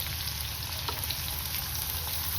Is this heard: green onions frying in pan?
yes